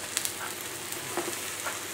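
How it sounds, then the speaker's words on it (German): Chicken pieces pan-roasting in a large frying pan with rosemary and garlic, giving a quiet, steady sizzle with faint crackles and pops throughout, heard alone without speech. "das wird hier schön angeröstet mit... unserem Rosmarin und dem Knoblauch"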